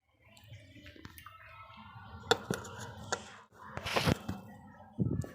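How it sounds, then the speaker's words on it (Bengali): A knife cutting 250 grams of paneer into small pieces on a board, a series of close, uneven chops and scrapes with short pauses between them, no talk. "তো দেখো আমি চাকু দিয়ে এখন কেটে নিচ্ছি।"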